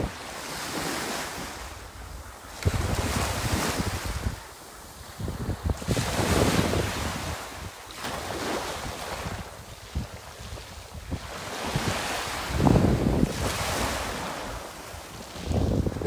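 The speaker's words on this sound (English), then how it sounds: "There's something about the sound of the sea." Sea waves roll onto the shore at Jaywick, each surge building and washing out in slow repeating swells, with strong wind buffeting the microphone throughout and no voices.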